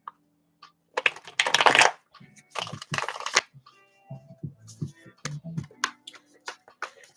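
Tarot cards riffle and slap as they are shuffled by hand, crisp papery bursts and brushing clicks in irregular clusters, close-up, with some speech heard in between.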